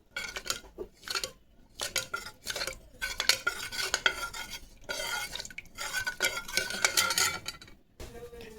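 Cooked dal being stirred and mixed in a metal pot with a spoon, a close run of irregular scraping and clinking strokes with short pauses, no talking.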